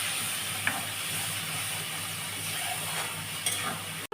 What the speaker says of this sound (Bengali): মশলাগুলো যে কষেছি তেল ছেড়ে গেছে